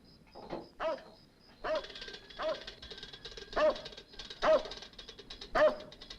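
A dog in an old film, at a gas station, barks and yelps repeatedly, about seven sharp, moderately loud barks spaced fairly evenly over several seconds.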